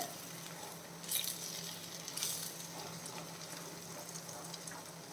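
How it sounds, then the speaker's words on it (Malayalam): Spinach and egg frying in a non-stick pan give a soft, steady sizzle while being stirred, with a couple of brief scraping bursts; no voices. "ഇനി നമുക്ക് ഇളക്കി കൊടുക്കാം"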